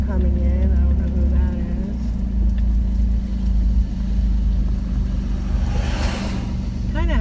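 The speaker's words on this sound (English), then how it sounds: "There's a truck coming in." A truck rolls in at a gatehouse near Lake Merrisach in Arkansas, its engine a low steady rumble heard from inside another vehicle, with a voice talking over it throughout.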